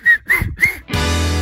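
Three sharp, high whistled notes of Canarian silbo whistled language on El Hierro, in quick succession, loud and close, followed by a sustained tonal sound.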